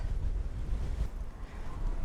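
Strong wind buffets and roars across the microphone in continuous gusts on a mountain top near the Lone Saguaro, with no voices.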